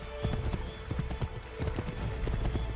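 A horse gallops in the Assassin's Creed video game, with steady, loud clip-clop hoofbeats in a quick rhythm that runs through the whole stretch. Game ambience sits underneath, and there is no talk.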